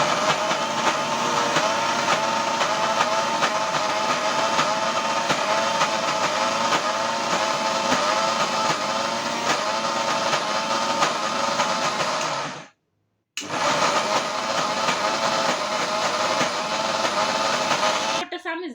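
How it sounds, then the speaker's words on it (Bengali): An electric blender grinds onions for piyaju in a home kitchen, a loud steady motor whine running continuously, cutting out briefly and then starting again at full strength. "আমি ব্যারেন্ডারে করে বানাই"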